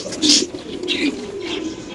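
Pigeons cooing at a pigeon seller's stall, a few low throaty coos repeating close by with some faint background noise.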